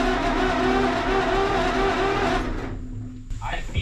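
An old Mack B30 bus engine cranks and churns loudly and steadily for a few seconds, then cuts off abruptly.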